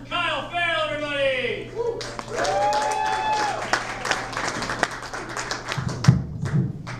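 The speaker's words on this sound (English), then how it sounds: "Big round of applause for Kyle Ferrell, everybody!" A comedy show audience claps for a comedian as he is introduced, with bursts of clapping and crowd noise mixed under a talking voice and tonal sounds.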